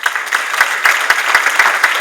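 Applause from an audience at a high school cheerleading awards ceremony, steady and dense with individual claps cutting through, continuous across the moment without any talking.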